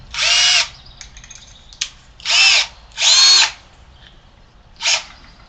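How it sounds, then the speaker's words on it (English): A power drill bores a hole in a fuselage parting board, four short loud bursts of whirring separated by pauses, close up and with no voices. "Let me drill a hole in this thing, big enough to get a jigsaw blade in it"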